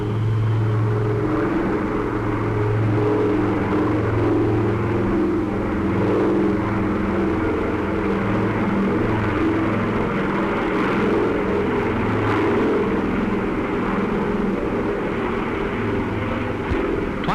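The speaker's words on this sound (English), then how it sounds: "aircraft overhead shuttle across the strait," A propeller aircraft drones steadily overhead while crossing Cook Strait, a loud continuous low engine rumble with a faint hiss that stays constant and does not fade.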